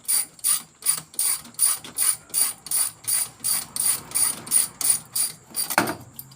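Ratchet wrench clicking steadily as a socket tightens a bolt on the AC belt tensioner of a 1999 Subaru Liberty EJ251, about fifteen close, even ratcheting strokes, then a brief clunk at the end.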